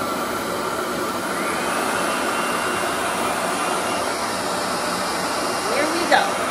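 A RevAir hair dryer running on high heat at setting 4 gives a steady, loud whooshing blow that holds evenly throughout, with a brief small clatter near the end.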